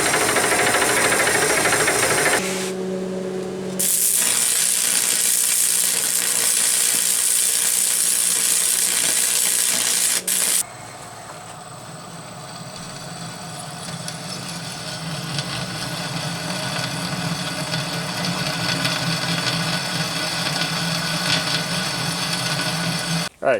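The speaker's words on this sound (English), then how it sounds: "So we're going to cut this off in a bandsaw." A Craftsman band saw cutting through metal, a loud sustained grinding whine with a short pause and a shift in tone midway, running steadily close by with no talk.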